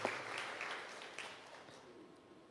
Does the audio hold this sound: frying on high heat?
no